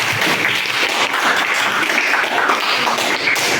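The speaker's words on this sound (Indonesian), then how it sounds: "beri tepuk tangan untuk kelompok 6" Loud, close applause from a classroom group after a student group presentation in a teaching practice session, dense and continuous clapping for a few seconds.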